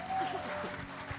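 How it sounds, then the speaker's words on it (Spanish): A church congregation claps together in a brief, dense burst of applause with a few voices calling out under it. "¿Cuántos le dan una ofrenda de palmas al que vive?"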